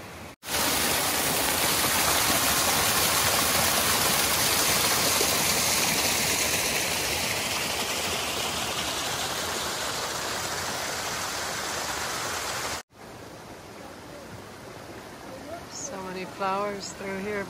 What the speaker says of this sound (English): This water source is rushing.